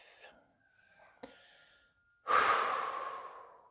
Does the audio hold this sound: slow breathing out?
yes